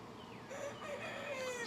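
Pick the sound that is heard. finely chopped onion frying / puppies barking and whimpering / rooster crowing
rooster crowing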